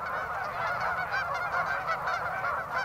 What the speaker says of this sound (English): Literally hundreds and hundreds of mostly geese, but a lot of ducks too.